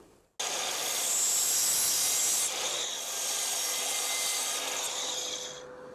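A miter saw cuts through a wooden board in a workshop, a loud, close rasping whine that starts abruptly, holds steadily for about five seconds, then stops.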